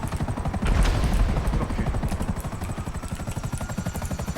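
A helicopter in GTA 5 thumps with rapid, steady rotor chopping, loud and close, overlaid with clattering bursts of weapon fire.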